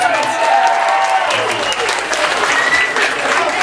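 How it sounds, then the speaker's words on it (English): A comedy club audience breaks into loud, dense applause that fills the room, sustained close clapping from many hands for a few seconds with some crowd noise. "Could I get a quick clap out of you guys to let them know it's okay?"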